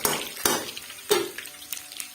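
Ginger fries in hot desi ghee for a masoor dal tadka, giving a soft, close sizzle broken by a few sharp clinks of a spoon against the pan. No voices are heard.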